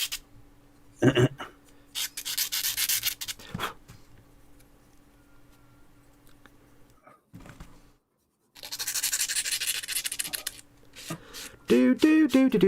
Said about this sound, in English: This is the stream where I just made lots of loud sanding noises for 2 hours, isn't it?